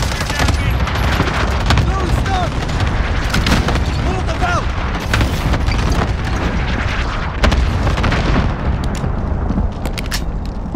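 Airstrike explosions boom and crackle in Call of Duty Warzone amid rattling gunfire, a loud, dense barrage with heavy low rumble and repeated bursts, under radio-style game voices.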